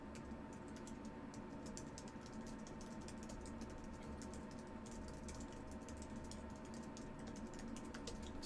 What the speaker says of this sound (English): Just typing a note to my team.